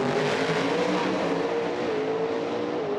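Nitro drag racing car launching at an IHRA Outlaw Nitro Series event, a loud sustained engine roar heard from a distance that holds steady and then slowly fades as the car pulls away down the track.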